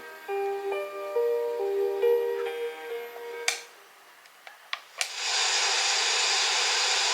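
A Fisher-Price otter sleep toy plays a soft, tinkling music-box melody for a few seconds, then stops with a couple of clicks before a steady hiss of white noise begins.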